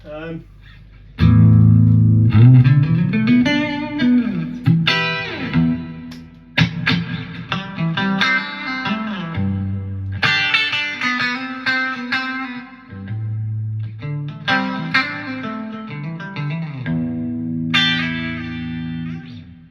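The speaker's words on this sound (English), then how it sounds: "Quite a nice reverb actually." Electric guitar chords and notes ring out through heavy reverb from a Crate FlexWave 120/212 amplifier, each phrase trailing off in a long wash, with brief gaps between strums.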